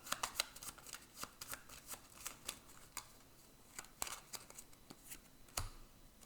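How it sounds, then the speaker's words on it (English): Playing cards being shuffled by hand during a tabletop board game, a rapid series of crisp riffling bursts and flicks, close and fairly quiet, with no talk over them. "Let's shuffle these up."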